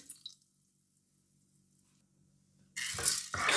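Water is poured into a rice cooker pot holding 200 grams of short-grain Japanese rice, a loud rushing splash starting after near silence and continuing to the end.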